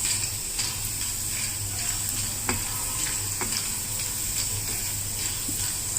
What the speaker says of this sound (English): Fry it nicely because we don't want any chewy, any sticky one inside